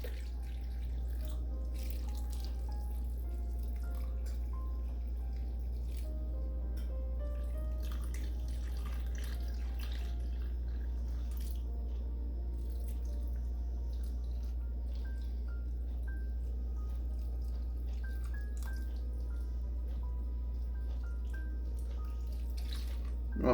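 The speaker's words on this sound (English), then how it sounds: "And now we are going to fill it with water." Water being poured into a baking pan of pork chops and potatoes, a soft continuous trickle and splash over a low steady hum in a kitchen.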